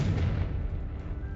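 A Confringo blasting spell in a Harry Potter video game, a single loud explosive boom that hits hard at once and rumbles away over about a second.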